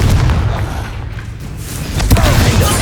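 Booming Confringo spell blast in the Hogwarts Legacy video game, a loud rumbling explosion amid combat noise, with a second sharp impact toward the end.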